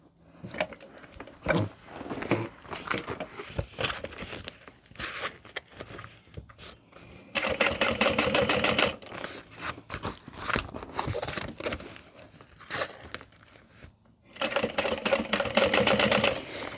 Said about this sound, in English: It is slightly difficult top stitching this right here